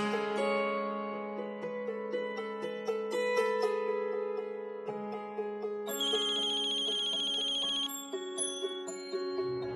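A telephone ringtone plays in a melodic, repeating electronic pattern as a call goes through, fairly clear and steady with no talking over it.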